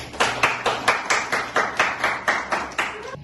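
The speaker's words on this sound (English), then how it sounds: "Applause for the mother of science fiction." A small audience at a literary event claps in a slow, even rhythm, about a dozen distinct claps at regular intervals, close and moderately loud with no talking.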